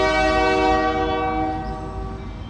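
A small Union Pacific local freight train hauling lumber cars and tank cars passes in Gardena, California. Its horn blares in loud, sustained tones over a deep rumble of rolling cars, then slowly fades.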